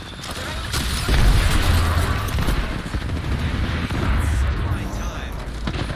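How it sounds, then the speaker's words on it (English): An Arc Star grenade thrown and going off in the Apex Legends video game, a heavy booming blast with rumbling low end, surrounded by crackling gunfire over several seconds. "Throwing Arc Star."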